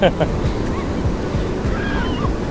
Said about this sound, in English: It's running away from me, the tide, but when I least expect it, it'll splash me suddenly.